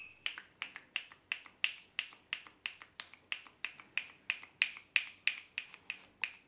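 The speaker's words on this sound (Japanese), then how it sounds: "指パッチン何回連続で鳴らせますか" Rapid run of crisp finger snaps, about two per second in a steady rhythm, close and clear against a quiet room with no talking.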